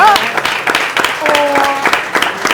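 A crowd at a live community event in Milwaukee breaks into loud applause with sharp individual claps, while a voice speaks over part of it.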